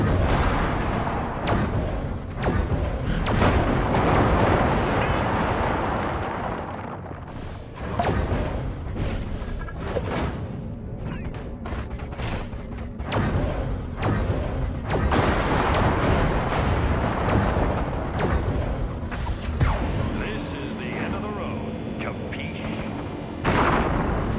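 Repeated loud explosions and blasts as an alien base is destroyed in the video game Destroy All Humans, rapid booming bursts and crackling debris over continuous game noise, with no talk.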